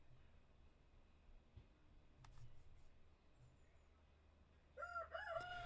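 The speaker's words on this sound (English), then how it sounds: "I truly apologize about that rooster." A rooster crows faintly in the distance, its call rising near the end over a quiet background.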